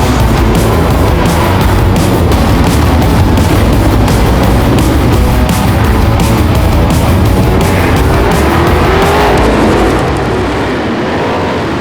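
V8 Sprint race cars in a heat, a dense, loud roar of several engines blaring together at close range, with rapid booming pulses throughout before the noise eases slightly near the end.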